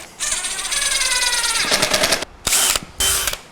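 A power drill drives 1.5 inch T25 screws into a plywood cabinet back, whining up steadily as the motor loads, then two short loud bursts follow close to the microphone.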